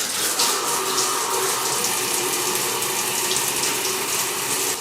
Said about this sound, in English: the water will drip down perfect through both of the levels